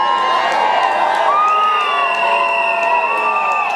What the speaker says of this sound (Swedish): alla jublar, alla applåderar för Agnes Kyrin